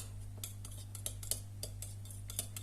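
A utensil stirs mustard, mayonnaise and soy sauce in a bowl, tapping and scraping in quick, close, rhythmic clicks over a low steady hum.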